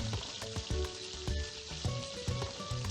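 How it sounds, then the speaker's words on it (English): Fish sizzles and crackles steadily in hot oil, with a few thuds and scrapes of utensils mixed into the frying close by. "We are frying fish"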